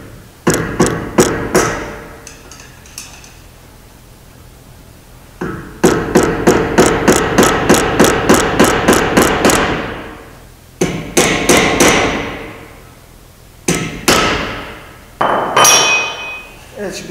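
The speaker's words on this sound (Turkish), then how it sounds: "Buradaki somunumuz gevşemesin diye de tekrar eski haline, yani şuraları vurarak sıkıştırıyoruz." A hammer taps around a wheel hub nut to stake it after a wheel bearing replacement, sharp metallic ringing blows in quick rhythmic runs of about ten strikes, close and loud, separated by short pauses.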